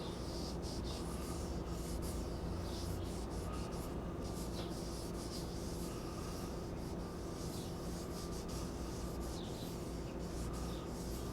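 A rag wiping on poly finish across a wood-turned vessel, a steady, close rubbing hiss that is continuous and fairly quiet, with no talking.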